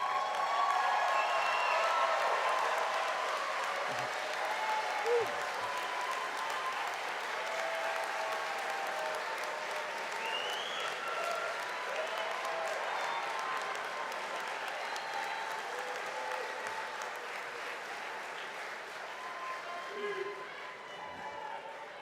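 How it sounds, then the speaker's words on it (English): Graduation ceremony audience gives family and friends a long, steady round of applause, broad clapping from a large crowd that fades slightly toward the end. "give them a big round of applause"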